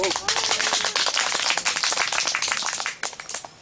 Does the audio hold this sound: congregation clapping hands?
yes